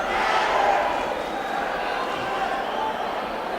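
A boxing crowd cheers at a Friday night fight, a broad, loud roar of many voices that stays steady without a break for a few seconds. A commentator's voice runs over it.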